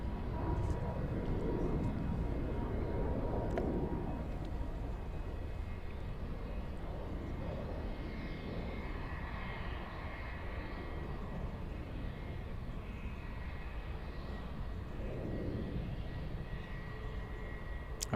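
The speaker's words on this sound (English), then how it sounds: "we will have a south side takeoff for LH766" Lufthansa jet airliner taking off at Munich airport, a broad steady engine roar heard from a distance that holds for the whole stretch with wind and outdoor background, no voices over it.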